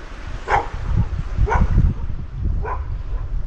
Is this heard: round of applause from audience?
no